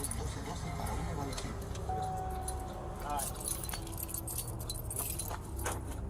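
Car keys jangle and clink in a steady run of light metallic rattling during a police traffic stop, heard close over constant background noise with faint voices.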